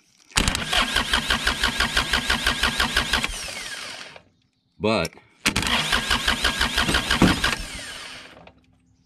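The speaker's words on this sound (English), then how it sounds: "that will open the switch and allow this starter to start this tractor" A John Deere 1025R tractor with an ignition switch fault cranks on its starter in two long bursts of fast, even chugging pulses, separated by a short gap with a brief sound in it.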